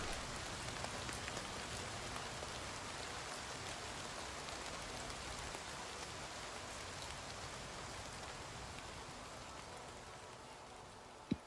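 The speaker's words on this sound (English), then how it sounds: "Because of the rain, it was hard to hear music anyway." Steady rain falls in the video game Oblivion Remastered, a continuous, fairly soft hiss of drops on surfaces lasting throughout, with no voices over it.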